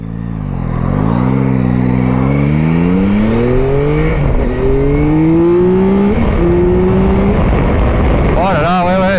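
Yamaha Tracer 9 motorcycle engine revving hard through several rising gear pulls, each climbing pitch then dropping at the shift, loud and close throughout.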